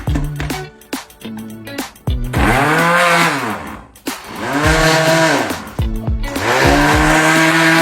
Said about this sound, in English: just going to go ahead and pop that in the blender and give that a whirl.